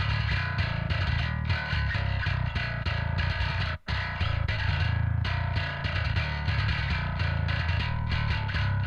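Bass line run through a distortion effect plugin adds grit to the higher frequencies, playing continuously in rhythmic chugging notes with one short dropout partway, loud and alone without talk.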